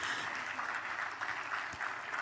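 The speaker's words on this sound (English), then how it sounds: "Could we have a big round of applause for Mr. Srinivas, please?" An audience at the Bengaluru GAFX 2026 inauguration applauds in a steady, even wash of clapping that stays faint and distant throughout.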